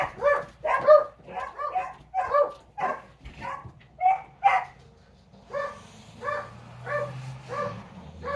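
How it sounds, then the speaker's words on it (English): Dogs bark excitedly as a family arrives home: a rapid run of loud, close barks and yips that slows into steadier barking, with a low rumble underneath. "My family just got home, so the dogs went crazy."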